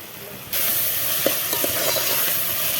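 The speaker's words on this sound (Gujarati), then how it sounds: "આવી મિત્રો હલાવતું રહેવાનું થોડું દાગતો ન લાગી જાય" Corn kernels with salt being stirred in a cooking pan in a village kitchen, a steady close sizzling hiss with a few soft scraping stir strokes, no talking.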